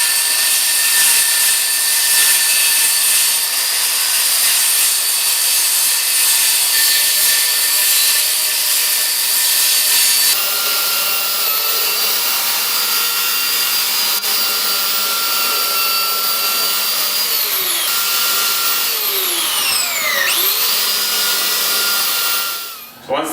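A power saw cuts through an onyx shower wall panel, taped along the marked line, in a loud, continuous high-pitched whine with shifting tones as the blade works through, ending abruptly when the cut finishes.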